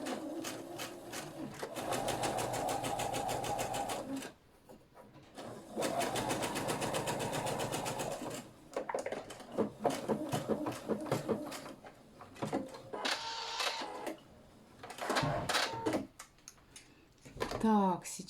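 A sewing machine stitches a cap made from old jeans with a leather visor, running in close, loud rapid bursts separated by pauses filled with handling clatter.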